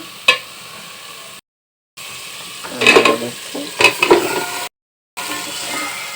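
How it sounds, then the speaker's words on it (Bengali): Green chillies, onion and spices fry and get stirred in a pan, with a steady sizzle and clattering scrapes of a spoon in bursts; the sound drops out briefly twice. "তারপর কাঁচামরিচ পিঁয়াজ দিয়ে দিচ্ছি সব মশলা কষিয়ে নিচ্ছি"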